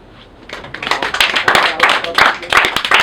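Comedy-show audience clapping in response to a stand-up comedian, starting sparse and building quickly into loud, close, rhythmic applause mixed with scattered individual claps.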